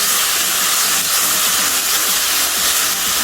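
Ginger and green chili sautéing in a pan for tuna cutlets make a loud, dense, unbroken hiss and sizzle, close by, with no talking.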